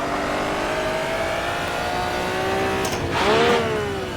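A 1950s-style Formula One car engine in the Automobilista racing sim revs steadily with rising harmonics, then blips sharply higher near the end, loud and close with no talk.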